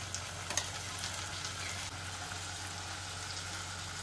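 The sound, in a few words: ginger garlic paste frying in a wok with onions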